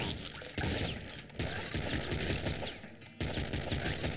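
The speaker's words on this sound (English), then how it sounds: "We are going to shotgun some rats in the face" Shotgun fire in the video game Nuclear Throne, set in the sewers against rats, comes as several sharp, loud blasts in quick succession, each with a brief dip between shots.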